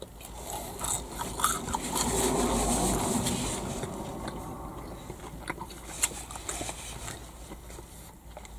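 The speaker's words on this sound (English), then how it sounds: "They're cheesy. A nice crunch on them." Crunchy cheesy chips dipped in sweet chilli sauce, eaten close to the mic: steady crisp crunching and chewing with a dense, scratchy texture that swells in the middle, with no talking.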